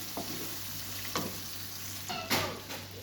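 Yogurt being stirred into chicken karahi in a pan over a low flame, with a few soft scraping strokes and a light, steady sizzle underneath.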